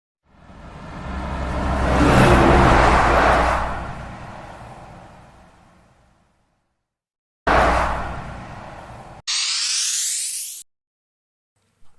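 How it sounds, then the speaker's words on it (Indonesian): A container truck rumbles past, a deep roar building and slowly fading away, then a shorter burst of road noise and a brief rising whoosh. "kontainer,"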